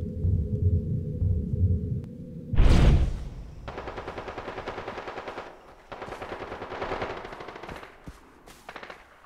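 Submachine gun in Far Cry 3 multiplayer, heard after a loud whooshing burst: long rapid automatic bursts, sharp and close, broken by short pauses and a few shorter trailing bursts.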